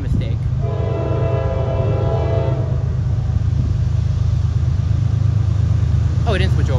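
A Norfolk Southern double-stack freight train rolls past a road crossing in Lexington, Kentucky, with a constant loud rumble and wheel noise. Its horn sounds in a sustained tone early on, and a person speaks over the passing train.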